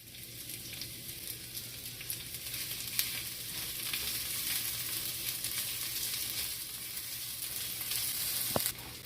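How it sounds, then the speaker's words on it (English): Onions frying in about a tablespoon of canola oil in a heavy pot, a steady close hiss and crackle with faint scrapes of stirring throughout and a brief sharper clink near the end. "I'm just going to go ahead and stir my onions around like this until they get a little translucent."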